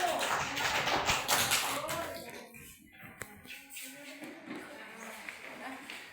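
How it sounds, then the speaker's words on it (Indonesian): Students in an Islamic religious education class clap for group 1 after its presentation on the Prophet's migration to Medina. The quiet, somewhat distant patter is strongest for the first two seconds, then thins to sparse taps and room shuffling. "Tepuk tangan untuk kelompok 1."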